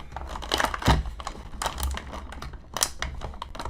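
Twist ties are unwound from the plastic packaging of a NECA Godzilla toy, giving close, quiet crinkling and a scatter of small ticking clicks and scrapes over a few seconds.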